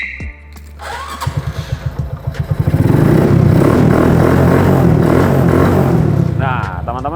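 A Honda Streetcub motorcycle engine cranks with a rapid stuttering rhythm, then catches and roars into a loud, steady idle that rumbles on close by.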